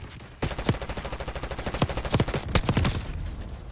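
Rapid automatic gunfire in a Black Ops 6 gunfight, a steady stream of loud, close shots with several heavier bursts layered in, continuing for nearly four seconds without talk.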